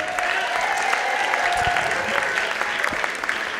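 An audience applauds at a library poetry slam competition, a dense, steady burst of clapping that holds evenly through the short stretch, with faint crowd noise mixed in.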